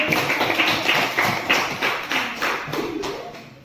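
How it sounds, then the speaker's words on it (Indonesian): Classroom audience applauds in a burst of rapid, dense clapping that stays fairly loud and even throughout, with no talk over it. "Berikan aplaus yang meriah"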